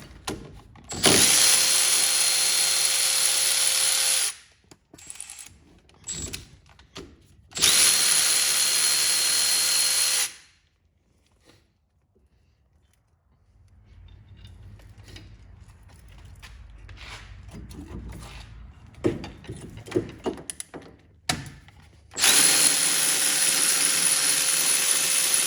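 Tools removing the 15 mm brake caliper bracket bolts on a Chevrolet HHR, with loud bursts of a power ratchet or impact tool separated by quiet gaps and lighter metallic handling and clicks.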